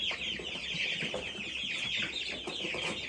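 Large meat chickens on a homestead clucking together, a steady flock chorus of overlapping busy clucks and chatter at close range, with no voices over it.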